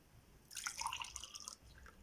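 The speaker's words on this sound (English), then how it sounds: "And now here I have a glass and I'm going to pour it." Homemade lemonade poured into a glass, a close, quiet splashing trickle of liquid lasting about a second in an otherwise quiet room.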